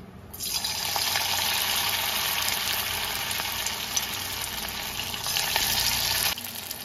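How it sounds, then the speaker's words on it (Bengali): A sudden loud hiss as green banana pakoras drop into hot oil, then a dense, steady sizzle that continues unbroken, with no voices. "এবার আমি পকোড়াগুলো ছেড়ে দেবো।"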